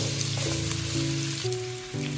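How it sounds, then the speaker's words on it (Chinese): Steady, close sizzling of pork ribs stir-frying in a wok with scallion-ginger oil, with a faint tonal background hum running underneath. "我们把排骨在锅里面煸炒一下"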